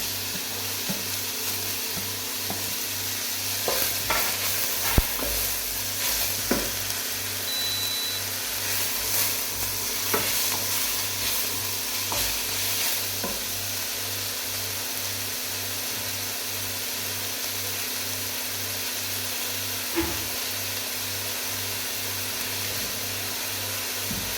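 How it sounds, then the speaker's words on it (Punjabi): Chopped ginger and garlic fry and are stirred in a pan while making shahi paneer, a steady close sizzle running throughout with scattered scraping stirs and clicks, no voices. "ਨਾਲ ਹੀ ਅਦਰਕ ਤੇ ਲਸਣ ਜਿਹੜਾ ਕੱਟਿਆ ਆ ਉਹ ਵੀ ਪਾ ਦਾਂਗੇ"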